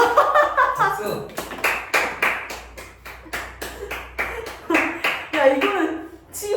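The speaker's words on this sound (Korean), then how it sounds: "박수." Students in a classroom break into scattered applause, a few bursts of hand claps that rise and fade several times, with voices chattering over the clapping.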